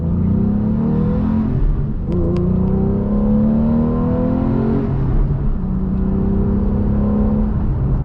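A Porsche Boxster with a turbocharged four-cylinder engine revs up close, its droning note climbing repeatedly with brief dips between pulls, loud and steady with no talking.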